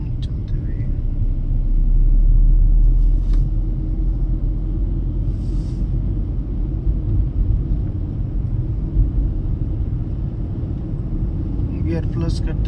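A Tata Punch car being driven during a driving lesson, giving a steady deep engine and road rumble that swells briefly and then holds close and constant, with a voice talking over it.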